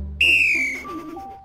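A whistle is blown once, a sharp shrill blast that slides slightly downward in pitch, followed by a short lower trailing tone.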